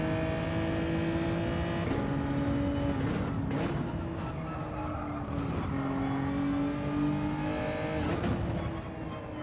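A race car in Gran Turismo 7 drives hard through corners, its engine droning loudly with repeated revving rises and dips as it slides around, a steady stream of game engine sound without voices.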